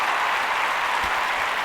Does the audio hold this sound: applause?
yes